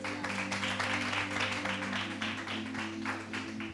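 A studio audience at a televised magic show claps in a fairly loud burst of applause, layered over sustained background music.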